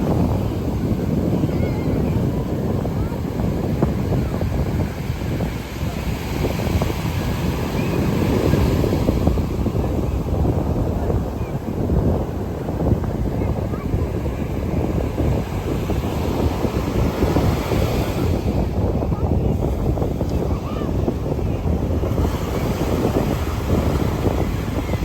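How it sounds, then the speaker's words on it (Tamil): Waves at Nagoor beach in Tamil Nadu keep up a steady surf wash mixed with heavy wind buffeting the microphone, with no speech over it. "ஒரு கொஞ்ச நேரம் இந்த பீச் சவுண்டை கேளுங்க எப்படி இருக்கான்ட்டு."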